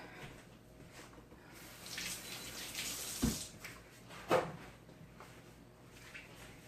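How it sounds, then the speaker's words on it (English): Running tap water splashing as hands are rinsed under a kitchen faucet while cooking pintos, cabbage and cornbread, a steady close stream with a couple of louder splashes and clunks midway, no talk. "Let me rinse my hands off."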